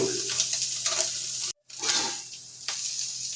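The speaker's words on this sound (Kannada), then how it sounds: "ಒಂದು ಸ್ಪೂನಷ್ಟು ಕೊಬ್ಬರಿ ಎಣ್ಣೆ ಹಾಕ್ಕೊಳ್ತಾ ಇದ್ದೀನಿ" Spoonful of coconut oil sizzling in a hot pan, a steady bright hiss with a brief break partway through, close and alone.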